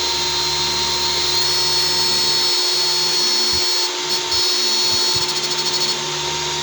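A blower on an automatic IGBT/MOSFET-driven unit with HY4008 transistors runs steadily with a loud, even mechanical whir. Several low thumps and dropouts sound near the end, and there is no talk.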